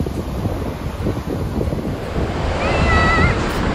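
Ocean waves wash up onto the beach during spring surf fishing, a constant near surf roar mixed with wind buffeting the microphone, swelling louder toward the end.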